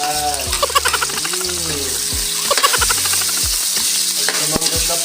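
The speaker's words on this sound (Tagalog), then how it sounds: "At isusunod ko na po kamatis." Tomatoes sizzling in a hot pan for sinigang, a steady bright frying hiss with stirring scrapes, while music with a pulsing beat plays underneath.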